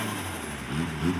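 At an outdoor car meet, a nearby car engine rumbles and rises briefly in pitch as it revs, a short, moderately loud burst over background noise.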